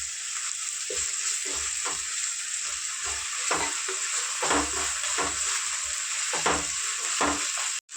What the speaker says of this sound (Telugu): కొంచెం కరివేపాకు, అల్లం వెల్లిగడ్డ పేస్ట్ వేసుకుందాము. 1 స్పూన్ ఫ్రై చేసుకుందాం పచ్చి వాసన పోయే వరకు.